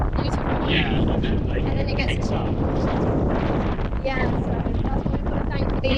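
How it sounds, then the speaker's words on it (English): Strong wind gusting past thirty knots buffets the microphone on a sailboat offshore, with 4,000-metre mountains behind; a loud, continuous roar with surging gusts and muffled voices beneath. "It's gusting well over 30 at the moment."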